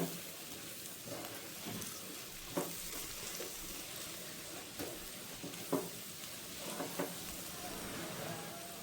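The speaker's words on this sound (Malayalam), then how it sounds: "ഇനി ഇത് ചേർത്തിട്ട് നമുക്കൊന്ന് ഈ പൊടിയുടെ പച്ചമണം മാറുന്ന വരെ ഒന്ന് വഴറ്റിയെടുക്കാം." Onions sautéing in a pan with chicken masala and chili powder, a low continuous sizzle broken by occasional soft stirring taps and scrapes, quiet and close, with no voices.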